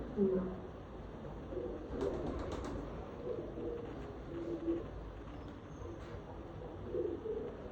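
Pigeons coo softly at a pigeon farm, low repeated calls sitting beneath a faint background hum, with brief chirps and murmured voices.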